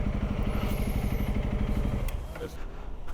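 A CRF motorcycle engine rumbles steadily as it pulls away from a service shop, loud and close for about two seconds before quickly fading and dropping off, with voices murmuring in the background.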